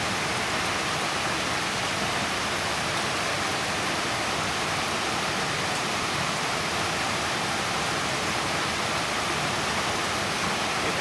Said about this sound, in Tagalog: at yung tunog ng sapa